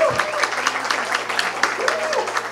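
Applause from an audience at a panel event as a biochemistry professor is introduced, brisk clapping from many hands with voices over it throughout.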